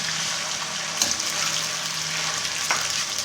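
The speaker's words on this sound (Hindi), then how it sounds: "इसको अच्छी तरह भूनेंगे।" Half a kilo of large chicken cubes fry steadily in a karahi for street-style Peshawari charsi chicken karahi, a loud continuous sizzle with a few sharper crackles, no voices.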